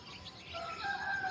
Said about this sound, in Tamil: இந்த குருவிங்க சத்தம் சூப்பராக கேட்டுகிட்டு இருக்குது